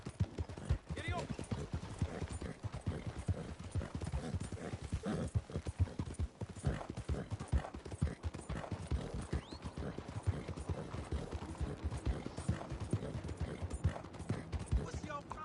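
Hooves of a galloping horse in Red Dead Redemption 2 pound in a fast, steady rhythm that runs unbroken from start to finish, close and even in loudness.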